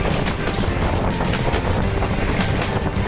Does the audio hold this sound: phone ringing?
no